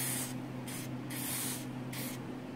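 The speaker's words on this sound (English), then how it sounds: "I'm gonna spray the entire terminal thing here." Corrosion X anti-corrosion spray hisses onto electrical terminals in several short bursts of aerosol, with a steady low electrical hum in the background.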